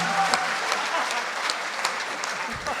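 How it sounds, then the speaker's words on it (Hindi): A crowd claps steadily at a Hindi poetry gathering, a kavi sammelan at a festival in Hapur. The applause is continuous and fairly close, with a few sharper individual claps standing out. "आप लोगों को तालियां बजानी ही होगी"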